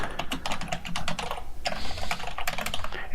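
Rapid keystrokes on a computer keyboard while writing HTML meta tags, a dense run of close, crisp clicks with one brief pause midway and no talking.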